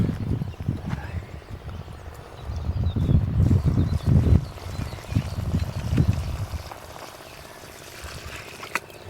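Water is poured onto the soil around a walnut tree, a low, gurgling splash that builds in the middle, then fades to quiet outdoor background.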